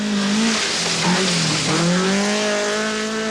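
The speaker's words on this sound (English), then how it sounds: "Andy Dawson is setting a fair pace in his Datsun Violet." A Datsun Violet rally car races on a stage during the 1980 Mintex Rally. Its engine revs loud and close, with pitch rising and falling through gear changes and a brief tire squeal.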